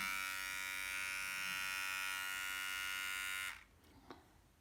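A Kiwi-brand electric toothbrush switched on, a steady high buzzing whine held for a few seconds before it cuts off abruptly, followed by a faint click, heard close and alone.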